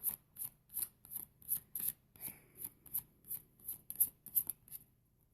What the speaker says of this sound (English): I think I'm going to shuffle the Archangel Metatron cards